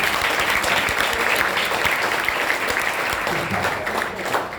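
Sustained applause from a college audience at a motivational class, many hands clapping in a dense, continuous wash without a break.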